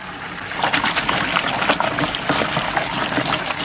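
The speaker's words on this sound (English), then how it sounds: "As this bucket's filling up with water" Water runs steadily into a bucket being filled for washing a car, a continuous splashing trickle heard close and alone.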